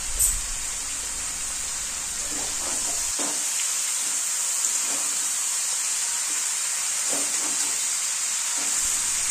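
Sliced ridge gourd hitting a hot pan sets off a steady, loud sizzle and hiss that runs throughout, with a few soft stirring knocks and scrapes along the way.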